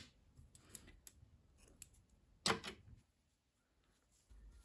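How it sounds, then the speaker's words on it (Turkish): Scissors snipping green knitting yarn, a few faint close clicks followed by one sharper cut, quiet and alone. "Yeşil renkli ipliği kesiyorum"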